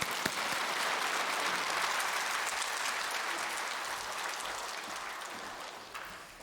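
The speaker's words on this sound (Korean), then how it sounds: "박수로 환영해 주세요" Congregation at a Korean Full Gospel church women's mission dedication service applauds to welcome the senior pastor, a dense, sustained wash of clapping that holds steady and slowly fades toward the end.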